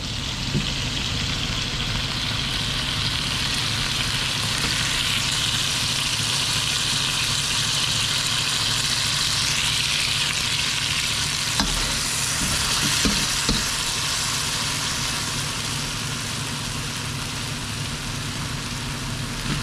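Chicken fries in a pan as soy sauce is added, producing a steady close-up sizzle with a sharper burst of crackling partway through, then an even hiss for the rest.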